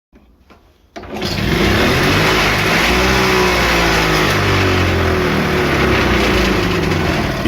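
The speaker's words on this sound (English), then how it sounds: "So I tried to start the engine." An EL308 generator engine, carburetor freshly cleaned, catches after a couple of faint clicks and roars into loud, close running with a slightly wavering, uneven drone that holds to the end.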